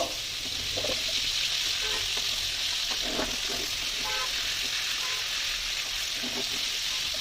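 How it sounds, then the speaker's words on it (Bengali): Spiced fish frying gently over a low gas flame, a steady close-up hiss and crackle of oil running without a break, with faint spatters over the top. "মাছগুলো আমি হালকা আছে ভেজে নেব, কারণ বেশি জোরে দিয়ে আমি ভাজতে পারবো না গ্যাসটাকে"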